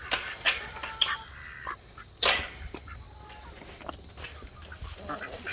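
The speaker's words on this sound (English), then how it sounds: "Chicken." Chickens among backyard egg-laying hens give scattered clucks and sharp squawks, close by with faint barnyard background and a few louder bursts.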